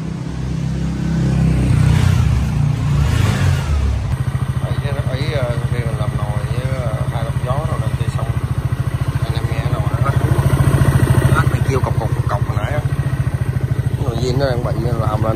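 Honda SH 150i scooter fitted with a 4Road exhaust, close and loud, its engine revving up through repeated throttle blips over a steady idle rumble, with someone talking briefly at the start.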